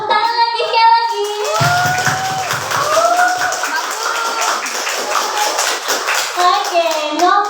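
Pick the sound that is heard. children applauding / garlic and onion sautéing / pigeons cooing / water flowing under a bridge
children applauding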